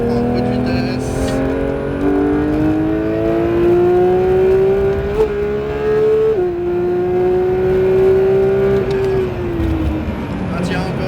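A Porsche 911 992 GT3 on a circuit holds a loud, steady engine drone whose pitch climbs slowly as it accelerates, dips briefly at a shift, then eases off. A voice speaks intermittently over the engine noise.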